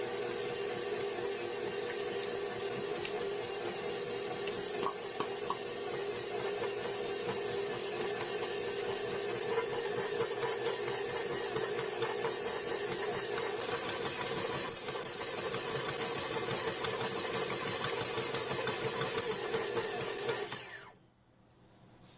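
A stand mixer stirs blueberry muffin batter after milk is poured in, a steady whirring motor hum with faint rhythmic beater rattle running continuously for about twenty seconds before switching off abruptly.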